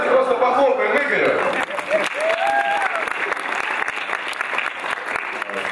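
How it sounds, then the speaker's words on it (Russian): A studio audience at a KVN comedy show breaks into sustained applause, thick rolling clapping throughout, with a voice briefly heard over it near the start. "Давайте просто похлопаем Игорю"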